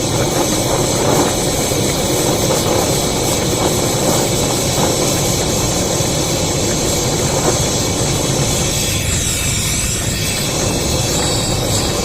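Gasoline-fed blowtorch heating thick steel with compressed air, giving a loud, steady roaring flame that runs unbroken and fills the scene with dense broadband hiss and rumble.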